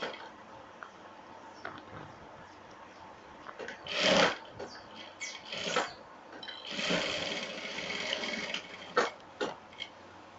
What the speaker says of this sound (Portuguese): Vai costurando aos poucos, aí você para aqui, ó, e vai ajeitando.